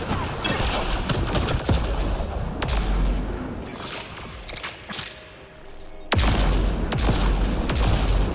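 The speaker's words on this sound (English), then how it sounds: "I like this gun and all, but these explosions don't seem very powerful" Gunfire and booming explosions in a sci-fi shooter game (Mass Effect Andromeda), with dense crashes and whooshes at steady loudness and a heavier burst toward the end.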